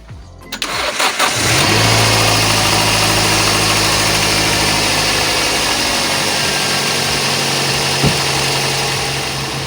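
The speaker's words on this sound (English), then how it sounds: "you have to start the engine first and let it run for at least a minute" Ninth-generation Toyota Corolla engine cranking briefly, catching and settling into a steady, loud idle that hums evenly for several seconds, close by with no talk.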